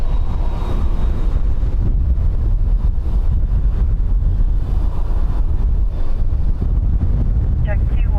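Strong wind at Dublin Airport buffeting the microphone, a loud continuous low rumble and roar that fills the scene without letup.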